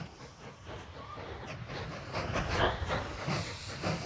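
Trains rumble and hiss along rails in the railway tycoon game Mashinky, with steady clattering wagons and soft steam-like hissing throughout, moderately loud and continuous.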